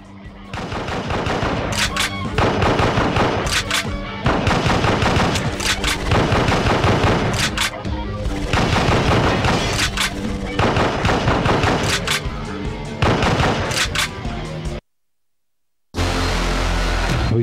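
Loud, rapid gunfire from the light-gun shooter Endgame on PlayStation 2 with a G-Con2, firing in repeated dense bursts and volleys, with a brief drop to silence near the end before the shooting resumes.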